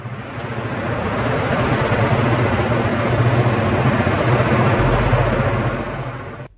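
A Boeing CH-47F Block 2 Chinook tandem-rotor transport helicopter drones loud and steady, a dense continuous engine and rotor roar that swells in and fades out over several seconds with no voices.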